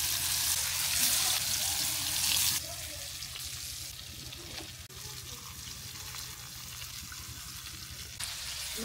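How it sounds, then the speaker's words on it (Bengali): Spiced hilsa fish fries in a clay pan, a soft, continuous sizzling hiss that is loud at first, then drops to a quieter steady crackle, with faint clinks. "এখন আমি মাছগুলো মাটির কড়াইয়ে মুচমুচে করে ভেজে নিব।"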